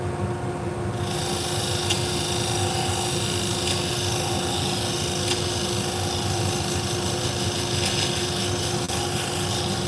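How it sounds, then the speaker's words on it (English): Salon thinning shears are sharpened on a machine, making a continuous, steady grinding whine with a constant pitch and a few faint scraping pulses, heard alone and fairly loud. "Yeah, we're sharpening thinning shears."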